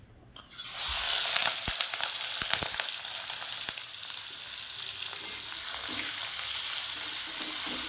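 Shrimp coated in salt and turmeric hits hot oil in a pan with a sudden loud sizzle that settles into steady, crackling frying, with occasional stirring scrapes.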